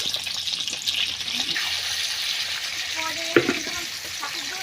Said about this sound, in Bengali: দেখুন এই আলুগুলো তেলের মধ্যে ছেড়ে দেওয়া হচ্ছে, ভালো করে আলুগুলোকে ভেজে নেওয়া হবে নুন দিয়ে, লবণ